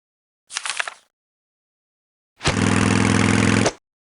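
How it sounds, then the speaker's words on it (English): Helicopter from the 1996 PC game Jumpstart 2nd Grade: a short burst of engine noise, then a louder steady droning roar with a low throbbing hum lasting over a second before cutting off abruptly. "Helicopters fly using rotating blades instead of wings."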